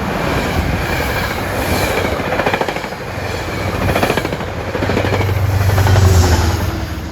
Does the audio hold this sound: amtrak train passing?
yes